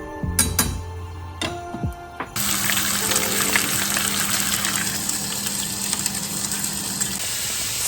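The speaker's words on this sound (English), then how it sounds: "Stock is bubbling away." Vegetable stock simmering in a pot on a stove gives a steady, close bubbling hiss that runs unbroken for several seconds, after a few brief clinks at the start.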